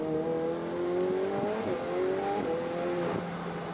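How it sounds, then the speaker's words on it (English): Onboard a Ferrari Challenge race car at Le Castellet, the engine drones steadily at high revs, its pitch climbing and then dropping sharply at each of several quick upshifts through the gearbox. "Through the gearbox goes Deborah Mayer"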